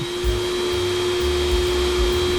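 A Predator 140-bar pressure washer blasts dust off a solar panel, a loud steady motor whine and hissing spray with a constant high tone, close and unbroken.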